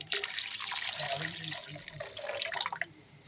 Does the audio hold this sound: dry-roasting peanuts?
no